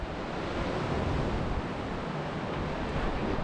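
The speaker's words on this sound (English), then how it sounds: "got the sounds of the waves" Ocean waves washing against a pier on the north coast of Tenerife, a steady, close, broadband surf wash with a light wind rumble and no voices.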